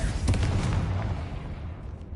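Confringo fire spell exploding in Hogwarts Legacy: one deep, booming blast with a heavy low rumble that rolls on and slowly fades over two seconds, loud and without speech.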